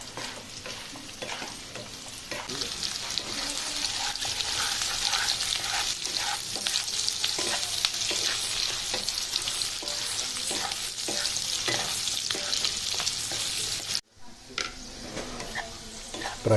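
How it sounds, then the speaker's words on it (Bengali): Capsicum and green chilies lightly frying in a pan give a steady, close sizzle with frequent stirring scrapes, cut by one brief pause near the end. "হালকা ফ্রাই করে নেব।"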